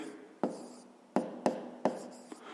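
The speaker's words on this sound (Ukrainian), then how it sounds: "Пишемо відповідь." Pen or marker strokes writing out a maths answer, a few short distinct scratches and taps spread over a couple of seconds, close and fairly clear with no talking.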